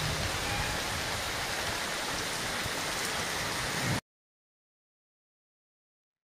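Steady, dense rainfall hissing continuously for about four seconds, then abrupt silence.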